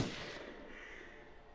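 A single gunshot in the horror video game Until Dawn cracks out at the very start, then fades into a long, dull reverberating tail that slowly dies away.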